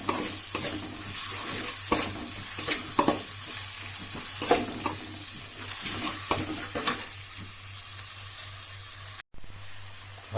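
Ginger onion paste frying in oil with a constant sizzle under frequent scraping stir strokes, a low steady hum beneath, fading quieter toward the end after a brief cut.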